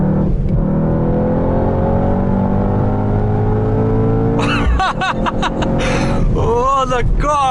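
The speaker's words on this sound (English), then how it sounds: "And that AMG sports exhaust, the rattles, the bangs." Sports exhaust of a 2020 Mercedes-AMG GT 4-door coupe, a steady loud engine drone that breaks into a burst of sharp crackles and bangs, with rising revving near the end.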